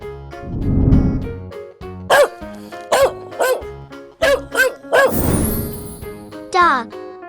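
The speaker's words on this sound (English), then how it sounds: "Dog." A dog barks loudly and close in a series of sharp, spaced barks, about eight in quick uneven rhythm, over soft background music.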